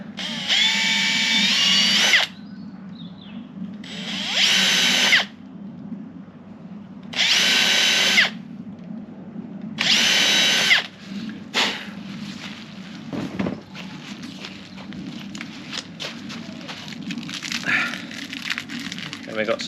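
Cordless drill driving screws while an external door and frame are hung by a carpenter, four loud, steady whirring bursts of about two seconds each, then lighter clicks, knocks and handling noise with occasional talk.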